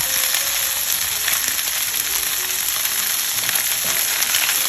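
Oxtail pieces browning in oil in a STAUB cast-iron pot for Cuban stew, giving a steady, dense sizzle and crackle that holds evenly all the way through with no talking.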